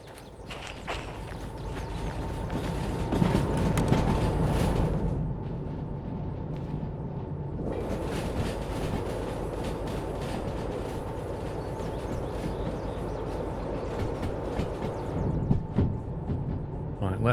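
A DM3 locomotive rolls along rails in the Derail Valley game, a loud steady rumble with rhythmic clatter that drops out briefly partway through and then resumes.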